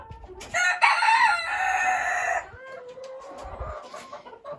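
Ayam Cemani chickens in a farm coop give a loud close crow-like call followed by softer clucking and a faint trailing call, with no voices.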